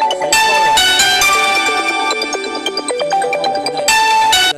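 A phone rings loudly with a melodic electronic ringtone for an incoming call, a bright repeating tune of rapid tones that plays alone and close up throughout.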